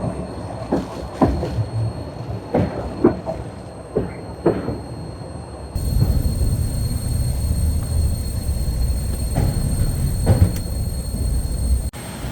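Steady low rumble of a scenic train rolling along the rails in Alaska, with a few faint clicks and knocks early on before the rumble grows fuller and continuous.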